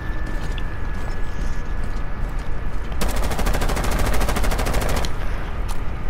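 Rapid automatic gunfire in Rainbow Six Siege bursts in a fast, even stream of shots for about two seconds, loud and close, over steady game background noise.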